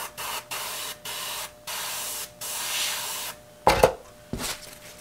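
Airbrush spraying unreduced paint at close range onto the wings of an RC model airplane: a run of short hissing bursts with brief pauses, ending in a couple of sharper handling clatters.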